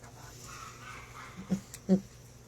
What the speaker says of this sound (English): I got a hen up here that's hollering her head off.